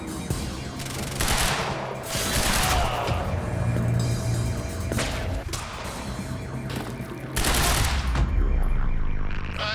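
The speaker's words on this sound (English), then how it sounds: "Open fire!" Bursts of automatic gunfire from a firefight in the video game Quantum Break: several loud volleys and sharp impacts come in clusters, with brief lulls between them and a heavy crash-like burst near the end.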